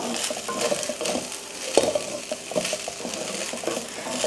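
Onions sautéing in a pan for a lunchbox rice dish, a soft sizzle with repeated scraping and stirring clinks of a spoon against the pan, close and steady.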